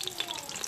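Spices crackle and sizzle in hot oil inside an Instant Pot on saute mode, a continuous fizzing frying sound with small pops, close and moderately quiet.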